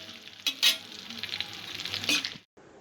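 Capsicum and other ingredients for spicy prawn Manchurian fry on medium heat, a steady sizzle broken by a few scraping stirs of the spatula in the pan, close and fairly loud with no talking.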